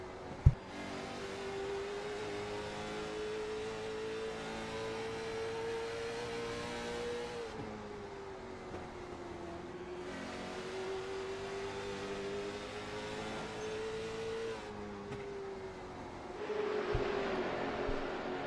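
Onboard engine of the number 14 late model race car at Concord, a steady loud drone rising and falling in pitch as it accelerates and lifts through the laps, close and continuous with no talk.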